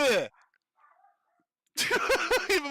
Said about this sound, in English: Even my dogs are screaming.